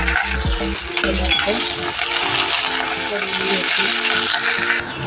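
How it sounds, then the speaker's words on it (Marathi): Onion frying in hot oil with cumin, a loud continuous sizzle and crackle throughout, with a faint voice underneath. "तेल गरम झालेलं आहे जिरे आणि म्हणजे तेलामध्ये आता मी कांदा घेते"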